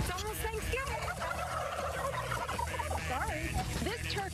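A turkey gobbles in a busy mix with other sounds and some talk around it, set in a Thanksgiving news segment about turkey sizes.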